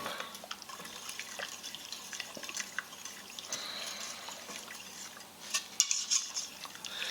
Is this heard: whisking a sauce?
yes